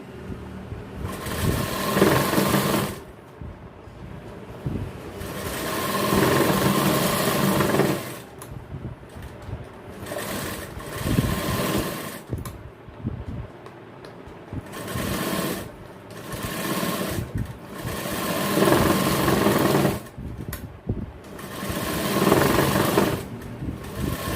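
An electric sewing machine stitching a 34-inch jacket in a tailoring shop, running in bursts of rapid whirring that stop and restart several times, close and clear, with no talk.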